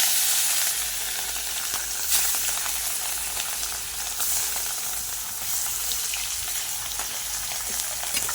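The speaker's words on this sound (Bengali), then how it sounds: "ওখানে মাছটা ভেজে নিই" Four pieces of fish fry in a hot pan for a Bengali malai curry, giving a steady, close sizzle and crackle with a bubbling hiss that runs unbroken throughout, with no one talking.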